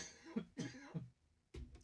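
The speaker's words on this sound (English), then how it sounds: "I'm going to cough, but I'm going to turn off the mic." A few soft, muffled coughs close to the mic, followed after a short gap by one more cough.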